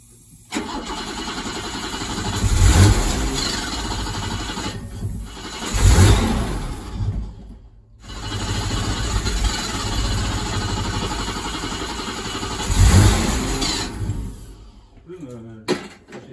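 A barn-find BMW 635 CSi cranks and fires, then its engine revs repeatedly in strong surges over a rough idle, close and loud.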